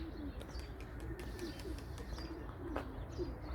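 Pigeons in a loft coo softly and repeatedly, with a few chirps and faint knocks around them, close by over low background rumble.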